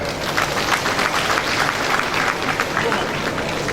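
An audience at a National Accountants of Nigeria event applauds a team that placed sixth, a dense, steady wash of many hands clapping throughout, with voices mixed faintly into the crowd noise.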